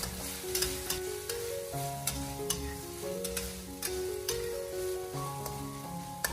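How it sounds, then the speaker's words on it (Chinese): Minced garlic stir-fries with oyster sauce in a wok, giving a continuous close sizzle broken by scraping stir strokes. Background music plays throughout. "然后再继续的给它翻炒一下"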